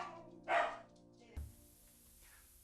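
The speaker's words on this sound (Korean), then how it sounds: "최근엔 두실이까지 따라서 짖어 걱정이라고 합니다." A dog barks indoors, one sharp bark followed about a second later by a shorter second bark, both fairly quiet against a low background hum.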